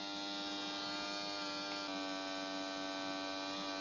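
A cheap airbrush spraying paint at low pressure gives a steady, even buzzing hiss with a constant hum, unbroken for the whole stretch and fairly quiet.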